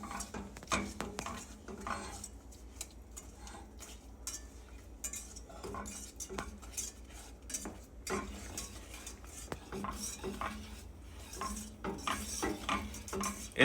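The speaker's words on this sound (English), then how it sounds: "It takes a lot of stirring with fudge" Vanilla walnut fudge mixture is stirred in a pot, quiet scraping and rhythmic clinks of a spoon against the pan repeating throughout.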